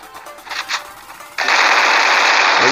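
A new gun fires in the mobile battle-royale game Free Fire. A few scattered shots come first, then a sustained, loud automatic burst from midway to the end, with no voices.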